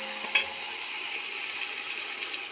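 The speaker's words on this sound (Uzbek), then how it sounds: "Sabzi va bulg'or qalampirini ham go'sht bilan birga solamiz." Carrots and bell peppers fry with meat in a copper pot, giving a steady, close, bright sizzle that stays even throughout, with one faint knock near the start and no talking.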